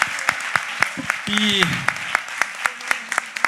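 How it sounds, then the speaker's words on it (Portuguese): A handful of people clap sparsely at a digital business forum, giving a few distinct, separate hand claps. Someone speaks over the clapping in the middle. "Uma salva de palmas, pessoal."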